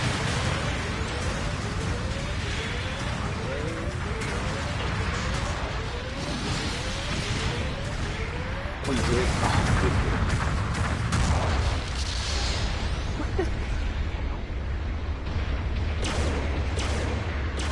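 Artillery support fire in Gundam Battle Operation 2 pounds the battlefield, deep rumbling booms and explosions rolling continuously over a dense, loud wash of mech combat noise, swelling heavier in the second half.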